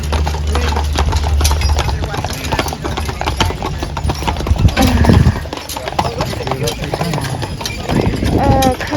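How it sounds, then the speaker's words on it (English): Horses on Mackinac Island pulling a large box of dirt, their hooves clip-clopping in a steady rhythm on the road with an engine rumbling nearby, while people talk over it. "those horses are trying so hard to pull that giant"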